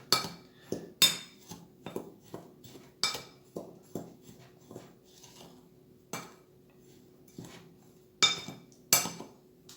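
A small spoon scrapes and clinks against a container while mixing herbs into pigeon feed, with repeated short, fairly close taps and rattles in an irregular rhythm and no talk.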